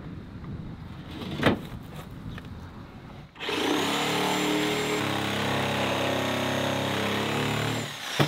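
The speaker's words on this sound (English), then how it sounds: "I had to cut into the bottom plate" A power saw cuts into a wooden bottom plate while fitting a window in a shed. Quiet handling and knocks come first, then the saw whines steadily and loudly for about four and a half seconds before stopping.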